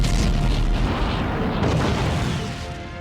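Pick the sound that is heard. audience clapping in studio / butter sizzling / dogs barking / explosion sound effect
explosion sound effect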